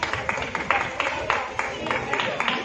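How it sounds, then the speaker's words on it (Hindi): Audience applause greets a third-place prize winner at an Independence Day celebration, a steady stretch of clapping from a crowd that carries on at an even level for a couple of seconds. "उनका तालियों से स्वागत करें"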